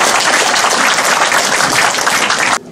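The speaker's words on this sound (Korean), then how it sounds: "우리 이교환 원장님께 여러분 다시 한번 큰 박수 부탁드리겠습니다" Loud, dense applause from an audience at a Korean political gathering for a Jongno preliminary candidate, steady for over two seconds and then cutting off abruptly near the end.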